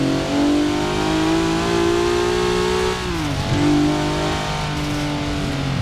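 A car in Forza Horizon 4 accelerates at full throttle, its engine note climbing steadily, dropping sharply at a gear change around three seconds, then rising again, loud and close with no talk.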